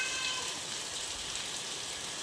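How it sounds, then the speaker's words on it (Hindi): Heavy daytime monsoon rain pours down in a dense, steady hiss of countless drops, close and continuous, with no voices. "यूँ तो बारिश इन दिनों हो ही रही है, मगर इतनी तेज़ तो दिन में नहीं मिली है देखने को, जितनी तेज़ी से अभी बरस रही है।"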